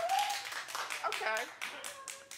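A television studio audience claps sparsely during a talk show, only a few scattered hand claps sounding under a presenter's voice and background chatter.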